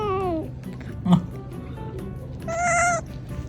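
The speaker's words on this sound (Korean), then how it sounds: "그리고 사진을 찍다가 고양이 구경을 하러 나왔습니다" A cat meows twice outdoors, a short descending cry, then a longer, higher, drawn-out meow, close and clear over quiet background noise.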